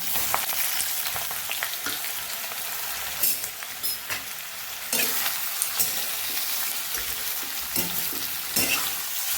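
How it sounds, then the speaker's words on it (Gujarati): Potato pieces fry loudly in oil with green chilli pieces, curry leaves and hing, a dense close sizzle broken by repeated scraping stirs of a spoon in the pan, with no one talking. "બસ આપણે બટેકાને તેલની અંદર જ ફ્રાય કરવાના છે"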